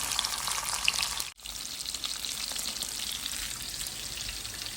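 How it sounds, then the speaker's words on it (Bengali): Hilsa fish frying in a pan, a close, steady crackling sizzle with brief fizzing pops and one short dip, no voices. "এখন মাছটা ফ্রাই করবো আর ডালের বড়াটা বানাবো।"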